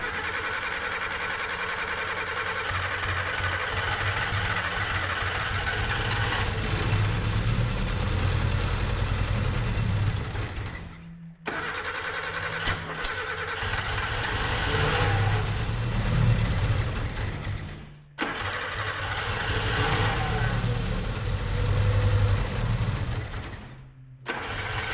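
A Suzuki Samurai engine that has sat abandoned for 20 years runs rough and starved of fuel, a loud, uneven sputtering drone that cuts out briefly three times before catching again.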